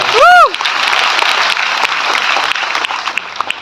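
Loud, sustained audience clapping fills a packed hall at a Hindi motivational speech, opening with a brief whistle-like tone before the dense applause continues steadily.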